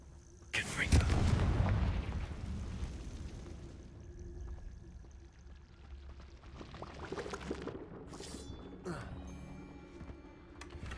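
Casting Confringo in Hogwarts Legacy sets off a loud fiery blast with a rumbling roar that fades into crackling effects, while a voice speaks over the game sound.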